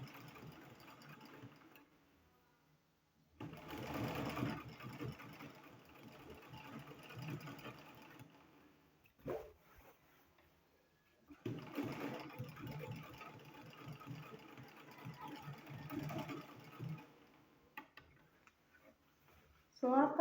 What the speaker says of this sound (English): Make sure you are sewing at the edge, and make sure your hands are very straight.